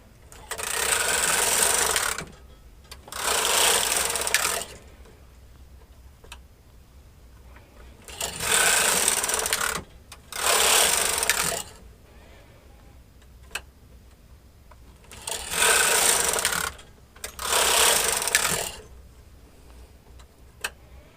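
Machine knitting short rows with a knitting machine carriage: repeated loud rattling sweeps as the carriage slides across the needle bed, each pass lasting about two seconds, with quiet gaps and faint clicks between passes.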